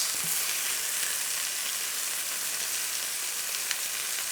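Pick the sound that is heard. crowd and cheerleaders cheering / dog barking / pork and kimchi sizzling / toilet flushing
pork and kimchi sizzling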